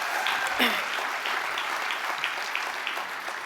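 Scattered audience clapping at a Sundance Film Festival award ceremony, a light patter of hands behind ongoing speech in the room.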